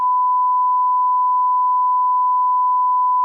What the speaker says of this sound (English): My poor editor and the bleep sound effect